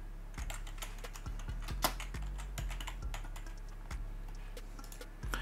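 Typing on a computer keyboard: a quick, irregular run of close, crisp key clicks with a few heavier keystrokes, steady throughout and with no voices.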